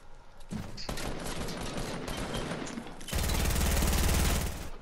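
Rapid automatic gunfire in a video game crackles in dense bursts. It breaks off briefly, then returns as a louder, faster sustained stream of shots near the end. No voices.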